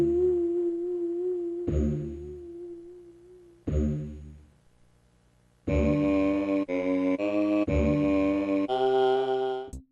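An eerie ambient song in Animal Crossing plays as slow, mournful synth tones: wavering sustained notes with decaying gaps, then fuller, denser chords in the second half.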